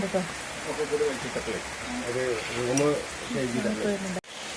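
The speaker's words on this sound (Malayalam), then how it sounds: "പുറത്ത് നല്ല മഴ പെയ്യുന്നുണ്ട് കേട്ടോ നല്ല മഴ അടിപൊളിയായിട്ട് പെയ്ത് വരുന്നുണ്ട്" Steady heavy rain hisses in the background while someone talks over it, the downpour continuing evenly throughout.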